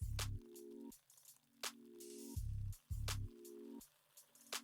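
A motorized Selene makeup brush cleaner spins a brush in a bowl of water, giving a close whirring hum in repeated bursts that start and stop with soft splashy hiss between them.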